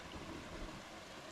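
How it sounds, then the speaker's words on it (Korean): Water flows steadily along a mountain valley stream near Yongmun waterfall by Gapsa temple in Gongju, a soft continuous rushing wash with faint wind, no voices. "물소리와 바람소리만 조용히 들리는 이곳"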